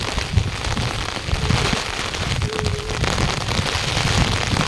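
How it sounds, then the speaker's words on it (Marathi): Heavy monsoon rain falls on a trek to Naikwadi waterfalls in Kolhapur, heard as a loud, dense, continuous rushing patter with crackling drops that carries on unbroken, with no talk. "बहुत ही तेज बारिश चालू है"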